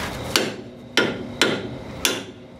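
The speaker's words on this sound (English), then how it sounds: "So I'm just going to kind of reach in here with the hammer." A hammer strikes metal on a car's front suspension, four sharp, loud clanking blows spaced about half a second apart, close by with no talking.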